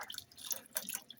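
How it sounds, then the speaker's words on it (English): A water tap sputters as air clears from the line, giving short irregular bursts of splashing and dripping, stopping and starting through the moment, fairly close and with no talk. "We finally got normal water flow. Right now, stop and start, that's just air in the line."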